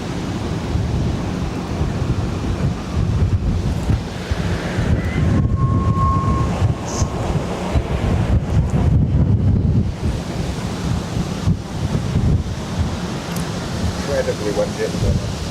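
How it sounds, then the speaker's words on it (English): Strong wind at Barcelona airport buffeting the microphone in a continuous loud roar, gusting throughout, with low talk mixed in beneath the rumble. "Incredibly windy, yeah."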